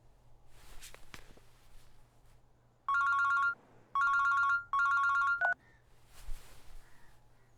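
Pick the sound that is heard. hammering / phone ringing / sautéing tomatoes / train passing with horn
phone ringing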